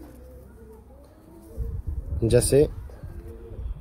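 Red-headed pigeons of a rare breed coo softly in a loft, low throaty calls rising under someone talking close by.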